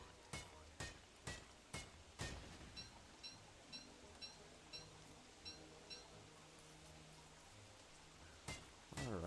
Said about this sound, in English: For an autumn spawn, I have gotten a lot of rain.